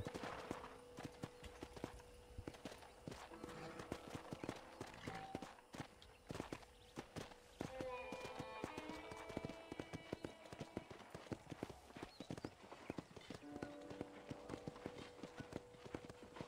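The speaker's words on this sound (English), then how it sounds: "I gotta get the black horse." Horse hooves clip-clop at a steady walking pace in Red Dead Redemption 2, a black horse moving across open ground, the regular hoofbeats continuing throughout amid ambient game sounds.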